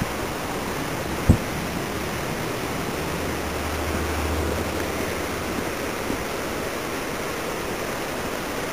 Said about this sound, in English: I can hear the mill wheel turning.